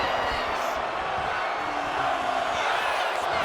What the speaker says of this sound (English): Crowd chanting one more time.